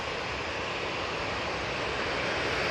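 A Ryanair jet departing Manchester Airport for Budapest gives off a steady, broad engine roar that holds at an even, moderately loud level throughout, with no voices over it.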